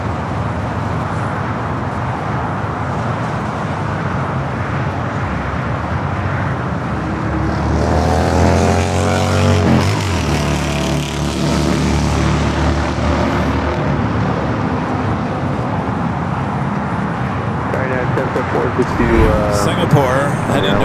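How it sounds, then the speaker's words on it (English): British Airways heavy jet arriving at LAX from London Heathrow, a loud engine roar swelling midway over continuous traffic and airport background, with a voice talking over it. "Our new British Airways, flight 281, coming up from London Heathrow."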